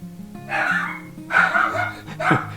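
A dog barks in repeated yelping bursts, close and fairly loud, with whimpering tones between barks, set in a street scene.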